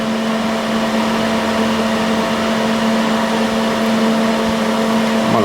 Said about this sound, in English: So the fan kicked on